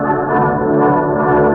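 Orchestra music with all frequencies above 2,000 cycles cut away, heard as a dull, muffled swell of strings and low instruments, steady and loud for a brief stretch.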